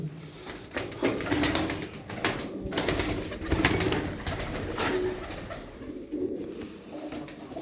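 A flock of Bango and Mardin pigeons coos close by in overlapping low rolling calls, punctuated by frequent sharp clicks and rustles from the birds.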